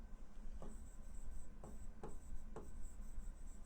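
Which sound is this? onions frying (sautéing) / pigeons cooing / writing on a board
writing on a board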